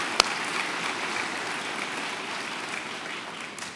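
Audience applause at a spring commencement ceremony for the class of 2019, a broad, steady roar of many hands clapping in a large hall, opening with one sharp clap and fading slightly toward the end.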